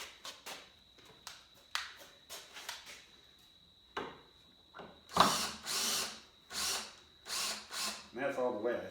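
Screws on a saw table part being loosened with a power driver, in short repeated whirring bursts that grow louder and longer near the end.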